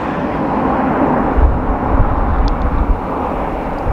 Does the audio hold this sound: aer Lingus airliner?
yes